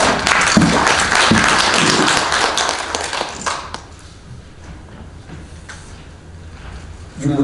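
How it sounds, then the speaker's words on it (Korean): Applause rises from the audience at a policy symposium and forum to welcome a speaker. It is a dense, loud patter of clapping that fades after about four seconds into quieter room noise with a few scattered claps. "박수로 환영하겠습니다."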